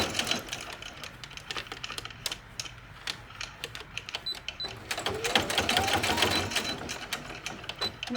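A sewing machine hems an armhole in short, stop-start bursts of rapid clattering stitches, close up, with brief pauses between runs and a longer, louder stretch partway through.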